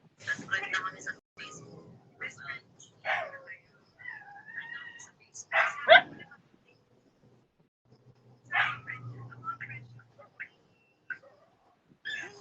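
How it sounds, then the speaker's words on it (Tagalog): Small pet dogs yapping and barking in a home in short noisy bursts, with someone talking and shouting over them and quieter gaps between. "Ang ingay ng aso ko."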